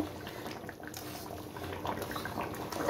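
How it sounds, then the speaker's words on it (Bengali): Potato curry (aloo dum) bubbling in a pot, a soft continuous simmer with faint popping bubbles, low and close, with no voices. "দেখুন আমার আলুর দমটা কি সুন্দর ফুটছে।"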